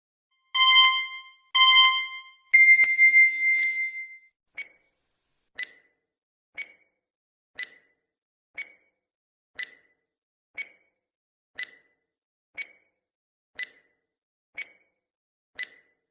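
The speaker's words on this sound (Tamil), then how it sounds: "கூடவே 15 seconds டைமர் ஓடும்." A 15-second countdown timer opens with three loud electronic tones, then ticks with short, evenly spaced beeps about once per second.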